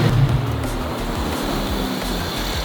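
A Terminator Cobra car, freshly fitted with a new custom coolant tank, idles with a steady low rumble and faint rhythmic pulsing, running continuously and close by with no voices.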